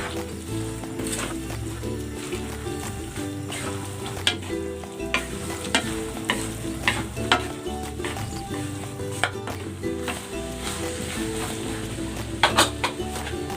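Cabbage stir-fried in a pan for pancit sotanghon guisado: constant loud sizzle with repeated scraping of a spatula against the pan, close and busy, with occasional sharper clacks.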